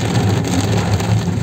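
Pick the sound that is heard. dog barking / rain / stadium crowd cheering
rain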